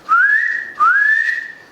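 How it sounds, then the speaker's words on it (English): A person whistles loudly twice, each a clear rising note that settles into a held pitch, close and alone with nothing else heard. "and if I whistle right here,"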